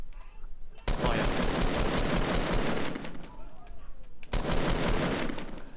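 Rapid automatic gunfire in the Fortnite video game, two long dense bursts with a short pause between them, loud and close, with players talking over it.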